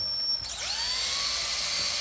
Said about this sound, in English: I'm going to drill it at such an angle, like I said, that it comes out inside the galley but behind the plug